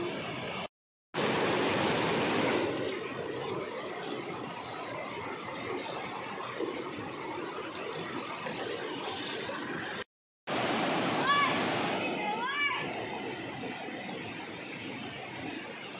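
A river flowing steadily with broad, continuous rushing noise, heard outdoors where people had been washing laundry and someone swims; the wash is loud and constant, with two brief dropouts and faint birdlike chirps late on.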